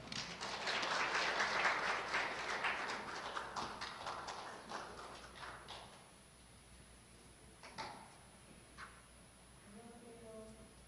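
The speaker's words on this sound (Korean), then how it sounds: "박수로 맞이해 주시기 바랍니다" Seminar audience applauds to welcome a speaker, a fairly faint spread of clapping that swells early then fades out, followed by scattered taps and a voice beginning to speak.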